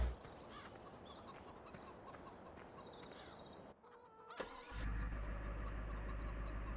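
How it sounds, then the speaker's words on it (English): Pickup truck engine in Farming Simulator 17 cranks briefly after a short silence, then catches and settles into a loud, steady idle, preceded by rural ambience with bird calls. "Gotta get the engine turned over from time to time, you know."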